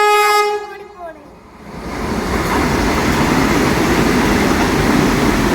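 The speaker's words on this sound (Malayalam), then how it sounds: "ഇവിടുന്ന് നന്നായിട്ട് കാണാൻ പറ്റും ട്രെയിൻ വരുന്നത്." A Vande Bharat train arrives at a station, opening with a loud sustained horn blast that fades, then swells into a steady, close, roaring rumble of wheels and carriages passing by.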